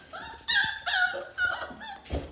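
Airedale puppies about five and a half weeks old whimper and yip in short high-pitched bursts, several cries close together and fairly near, with no talking.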